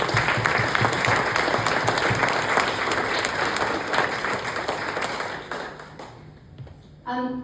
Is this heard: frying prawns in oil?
no